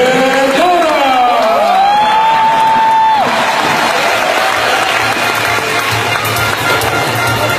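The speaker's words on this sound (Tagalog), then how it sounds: "please welcome milyong-milyong palakpak para kay Mr. Rafi Verdora" An audience applauds and cheers to welcome a speaker onstage at a company event, with a loud sustained wash of clapping. An announcer's voice rises over it in the first few seconds, and the crowd noise keeps going throughout.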